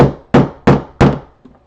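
Mallet striking a paint can lid to seal it shut: three sharp, evenly spaced wooden thunks close by, each ringing briefly, then a faint softer knock.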